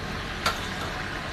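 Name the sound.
whole garam masala spices sizzling in hot oil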